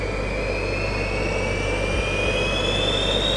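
Five Gravity jet suit turbine engines spin up from cold toward a 30,000 RPM idle, a loud continuous roar with a steadily rising high-pitched whine, close and with no talking.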